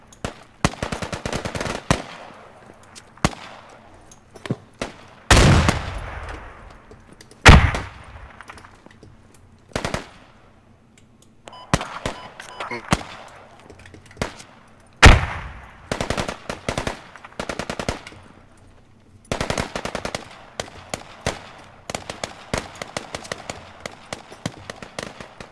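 Rapid bursts of automatic rifle and machine-gun fire from a Squad infantry battle, with repeated loud volleys and single shots at varying distances, some close and sharp, others distant, continuing throughout with brief lulls.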